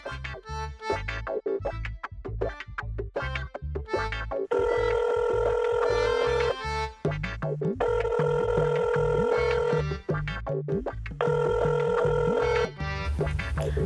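A mobile phone rings in a drama scene, its electronic ringtone repeating in bursts over a steady musical background of beats and tones, loud and close with no talk.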